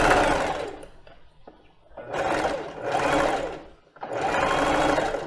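Domestic sewing machine stitching zigzag at setting 4 along fabric edges, three bursts of rapid mechanical whirring separated by short pauses, close and clear.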